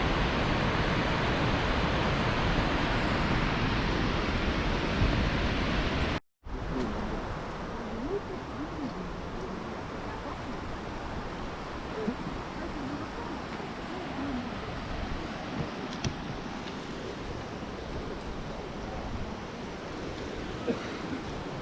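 Small waterfalls on the Rufabgo falls hiking route pour in a steady, loud broadband rush of falling water, with one abrupt brief cut partway through and no talking.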